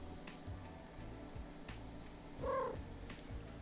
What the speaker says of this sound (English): Kitty cat, not right now.